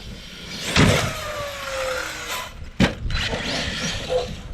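An Arrma Kraton RC car's electric motor whines through a ramp jump, rising in pitch as it launches, with a sharp thud of impact near the middle and more motor revving and rattling afterward, fairly close.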